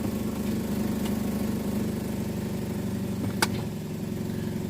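A Chevy HHR engine runs steadily close by with a low idling hum and faint vibration, and one sharp click lands near the end; no one speaks.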